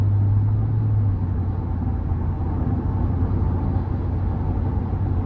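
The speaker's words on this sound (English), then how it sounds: "And just a nice strong growl from the engine bay." A 2023 Chevrolet Tahoe RST Performance Edition with the 6.2 engine growls while driving, a deep steady rumble heard from inside the cabin with road noise, continuous and fairly loud, no talk.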